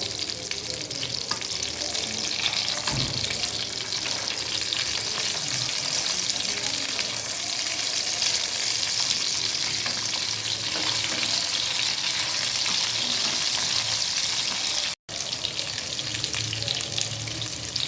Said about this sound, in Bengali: কাবাব এক পাশ ভাজা হয়ে গিয়েছে, এখন আমি আবার উল্টে দেব।